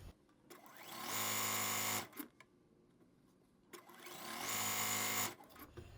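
A sewing machine stitches the corners of a quilt block in two bursts of even, rapid whirring, each about a second long with quiet pauses and small handling noises between.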